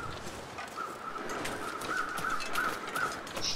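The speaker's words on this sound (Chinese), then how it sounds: "好多乌鸦，不祥的预兆。" Crows caw repeatedly in The Long Dark survival game, a series of harsh calls at a steady pace, moderately distant over a windy outdoor ambience.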